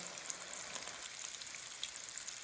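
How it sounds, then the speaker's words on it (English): Soft, steady sizzling of cauliflower fritters shallow frying in oil, with faint scattered pops and spits, quiet and continuous. "Shallow frying"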